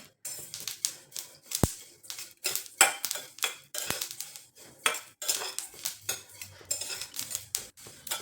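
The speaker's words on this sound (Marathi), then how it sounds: "तर मस्त असे खमंग तीळ पण भाजून घ्यायचे" Sesame seeds dry-roasting in a pan for curry leaf chutney, a busy run of dry clattering, scraping and ticking as the seeds are stirred, in quick irregular bursts close by with no voices.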